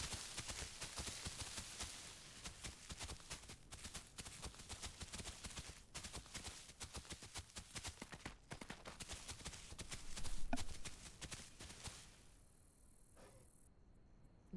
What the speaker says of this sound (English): Noises outside. Probably horse related, anyway.